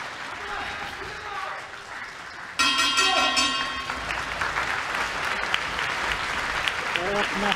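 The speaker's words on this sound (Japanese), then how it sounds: "大きな拍手が両者を包みます。" Crowd applause fills a boxing arena at the end of the seventh round of a professional fight, with a ring bell sounding partway through and the clapping continuing steadily under a commentator's talk.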